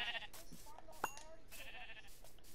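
A video game sheep bleats in short bursts, several thin repeated calls over a quiet background, with a brief sharp click partway through.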